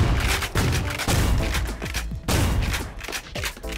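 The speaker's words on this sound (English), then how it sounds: "I do like that grenade launcher." Grenade launcher in the shooter game Ion Fury firing repeatedly, a dense run of loud, close blasts and booms in quick succession with rumbling low end, no talking.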